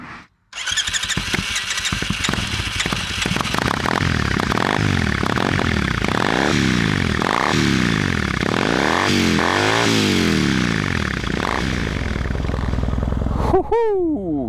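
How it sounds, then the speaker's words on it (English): A Triumph Thruxton 900 motorcycle engine starts with a clatter, then idles loudly and is revved repeatedly in rising and falling swells, ending with a few sharp blips close by. "This is what a motorbike should sound like."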